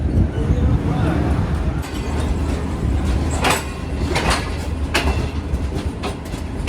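A train at Faisalabad railway station gives a continuous low rumble with clicking, clacking wheel sounds and a few sharp metallic transients, loud and close.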